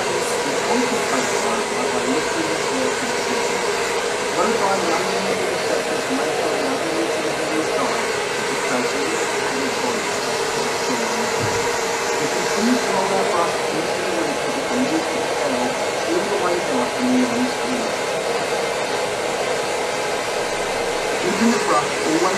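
A handheld blow dryer runs steadily the whole time, a continuous close whooshing roar while a hairstylist dries the underside of a section of hair, with faint talk mixed under the airflow.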